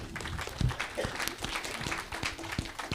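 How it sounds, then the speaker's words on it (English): Applause from an audience at a high-level climate adaptation dialogue, greeting the Minister of Norway; scattered, fairly faint clapping with some individual claps and a little voice activity underneath. "Then a big applause for the Minister of Norway."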